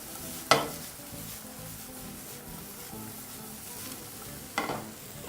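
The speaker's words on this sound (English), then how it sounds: "just proceed to toss everything in your pan together" Sausages and beans for feijoada frying in a pan, with a steady close sizzle and two sharp spoon scrapes and clatters against the pan, no talk.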